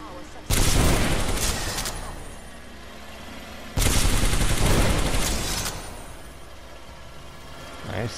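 Two loud, close bursts of gunfire from a weapon in the video game Titanfall 2, each a sharp blast trailing into a rumbling roar, separated by a few seconds.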